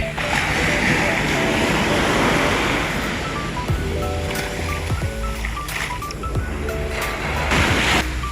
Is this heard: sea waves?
yes